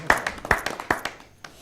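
A small audience gives scattered, uneven handclaps to welcome a poet at a poetry gathering, a brief thin patter that quickly thins out and fades.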